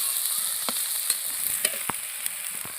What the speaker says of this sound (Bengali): ভালো করে পেঁয়াজগুলো লাল লাল করে ভেজে নেব।